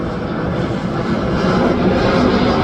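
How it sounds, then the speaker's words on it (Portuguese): An airplane passes overhead above a rooftop terrace, a steady broadband engine roar that holds loud and continuous throughout, swelling slightly toward the end with no talk over it. "E olha o avião, galera."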